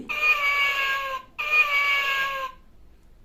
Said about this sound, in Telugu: తర్వాత క్యాట్ పిల్లుంది